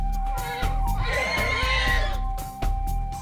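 A rescued horse in a South African herd lets out a loud, close whinny lasting a couple of seconds, its wavering neigh rising and falling, with faint background sounds around it.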